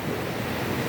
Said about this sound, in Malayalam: തിരമാല, ശക്തി ആർജിച്ച ഒരു തിരമാല.